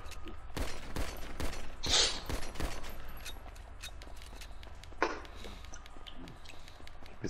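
Pistol fire in GTA V Online, a handful of sharp, scattered shots and impacts that are moderately loud against quiet game ambience, with no talk over them.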